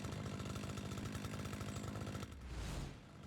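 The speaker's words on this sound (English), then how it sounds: "Use the string trimmer, hold right trigger." Motorized string trimmer in the Lawn Mowing Simulator video game on Xbox Series X, a steady loud buzzing engine drone that runs continuously, then drops away near the end into a brief whooshing sweep.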